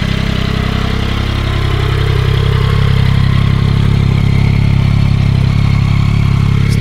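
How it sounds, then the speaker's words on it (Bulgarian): A Yamaha XSR 900 three-cylinder motorcycle engine idles steadily and loudly close by, a continuous low throbbing hum with no talk. "3-цилиндровия двигател на Yamaha има много специфичен звук на работа"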